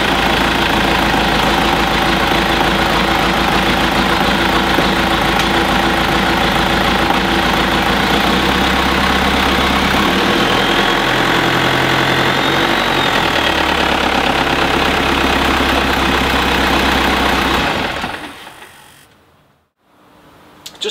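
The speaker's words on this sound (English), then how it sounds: "We'll fire the engine up here, and you can hear how easy it starts and how sweetly it's running." A 1998 Aquador 22HT boat's engine runs at a steady, loud idle for most of the time, then shuts off and falls to near silence before a brief restart sound at the end.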